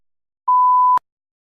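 One clean electronic tone beep lasting about half a second, loud and alone in silence, ends abruptly and marks the start of response preparation in a TOEFL speaking practice test.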